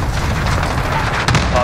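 Cluster strike bombs in Call of Duty: Modern Warfare rumble as a continuous, heavy barrage of close explosions, with a sharper crack near the end.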